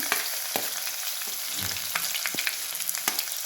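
Garlic and mustard seeds frying in hot oil in a Karnataka-style tempering, with a soft steady sizzle broken by scattered crackles and pops, quiet and close.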